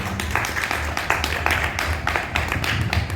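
Clapping from an audience welcoming a doctor at a naturopathy talk, a dense run of hand claps lasting a few seconds at moderate loudness.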